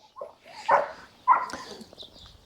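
Kangal Anatolian shepherd dog, a grey-brindled older dog at a breeding farm, gives a few short close vocal bursts, whimper-like yelps rather than full barks, separated by brief pauses.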